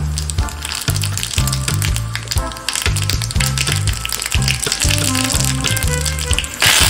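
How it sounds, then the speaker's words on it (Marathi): Mustard seeds and cumin sizzle steadily in hot oil for a Maharashtrian kairichi dal tempering, a close continuous crackle running over rhythmic background music. "तेल तापलेलं आहे, त्यात आपण मोहरी घालूया, थोडं जिरं"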